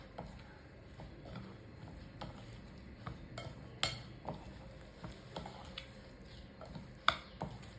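A spoon scrapes and taps against a bowl while a gram flour and buttermilk batter for veg uttapam is mixed, with quiet, irregular clinks and soft stirring close by over a low background hum.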